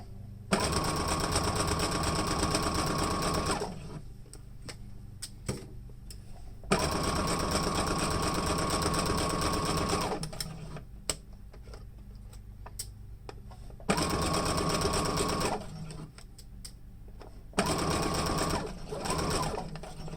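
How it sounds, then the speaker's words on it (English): Sewing machine stitching a fabric face mask, running in loud, steady whirring bursts of several seconds each, separated by short pauses with quieter handling sounds, close and with no talk. "back stitch, and then sew all the way to the end"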